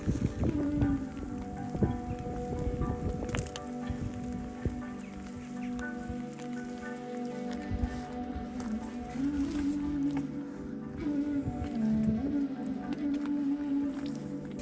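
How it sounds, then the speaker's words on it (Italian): Rain patters and drips on a surface nearby, with irregular splashy drops over a steady background hum and faint tonal sounds. "Sembra che non finisca più di piovere."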